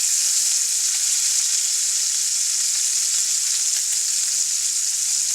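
Steak searing in a skillet: a loud, dense, continuous sizzle that holds steady throughout, close up and with no talking.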